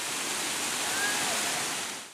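The Tirta Rimba waterfall on Buton Island near Baubau gives a steady, dense rush of falling water, loud and unbroken before it fades slightly at the end.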